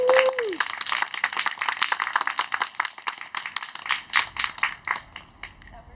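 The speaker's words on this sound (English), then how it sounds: "Will y'all join me in giving Blair a round of applause?" Audience applause at a ritual performance: a burst of many hands clapping, loud at first and thinning toward the end, with cheering voices mixed in.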